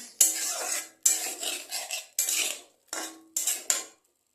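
Chicken stew is stirred and sautéed in a pan in a series of distinct metal spoon scrapes and clanks, about five bursts separated by short pauses, close and clear without talk.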